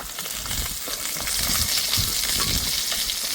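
Large pieces of catla fish fry in hot oil in a pan, giving a dense, close crackling sizzle with occasional bubbling pops throughout.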